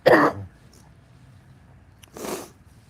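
A person with a cold lets out a harsh cough followed a moment later by a shorter throat clearing, close and alone against a quiet background.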